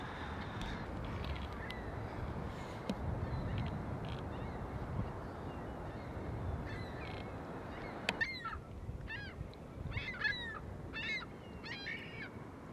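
Birds calling along the lake shore in Erie, Pennsylvania, with scattered honking and cawing calls over a steady outdoor wash of wind and waves, growing more frequent in the second half.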